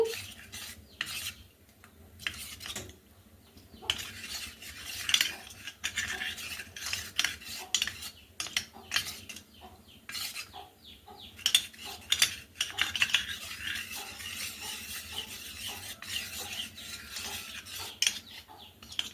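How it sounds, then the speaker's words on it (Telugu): Spoon stirring custard powder into milk to dissolve lumps, a steady run of soft scraping and clinking against the bowl throughout, close and fairly quiet, with no voices. "పాలల్లోకి కస్టర్డ్ పౌడర్ని యాడ్ చేసిన తర్వాత ఇలా వీడియోలో చూపిస్తున్నట్లు ఉండలు అనేవి ఏమీ లేకుండా స్పూన్తో అయితే మంచిగా మిక్స్ అయ్యేలా కలుపుకోవాలి"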